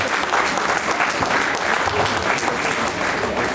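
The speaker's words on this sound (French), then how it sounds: "Oui, on peut applaudir, je crois," A live audience applauds loudly and continuously at a political question-and-answer event, a thick wall of clapping at close range that runs unbroken for the whole few seconds.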